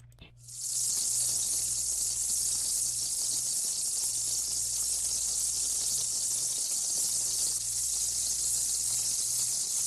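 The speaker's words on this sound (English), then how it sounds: "Sounds like something frying." A steady, bright frying sizzle like bacon in a pan fills the intro of a song, constant and dense from start to finish with a low pulsing hum underneath.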